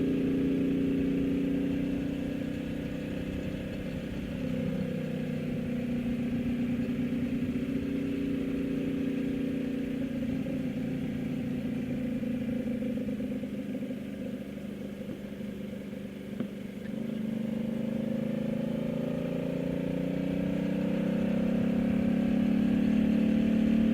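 A motorcycle engine runs steadily throughout, a low, continuous mid-pitched drone with slight swells in revs, close and loud, with no voices.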